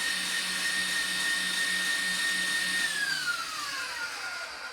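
An electric hand mixer whirs steadily at high speed beating egg whites for angel food cake, a close, continuous motor whine that drops in pitch as it slows near the end.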